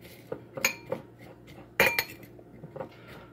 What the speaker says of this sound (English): I have a fork. I'll stir to combine.